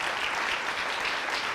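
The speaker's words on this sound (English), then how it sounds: "So I want you all to give yourselves a round of applause" A school crowd of students claps in sustained, dense applause that fills the room evenly, with no voices standing out above it.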